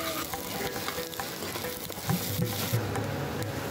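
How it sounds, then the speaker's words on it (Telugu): Dried red chillies and curry leaves fry in a little oil for a flax seed chilli powder, giving a steady, close crackling sizzle with occasional stirring scrapes and no talking. "ఎండుమిర్చి కొంచెం వేగాక 1/2 కప్పు కరివేపాకు వేసి మాడిపోకుండా వేపాలి"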